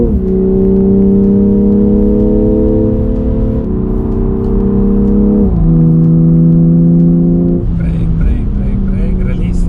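BMW X3 M Competition F97 driving hard on Kyalami Circuit in South Africa, a loud, steady engine drone stepping through gear changes and rising revs under continuous talk inside the cabin.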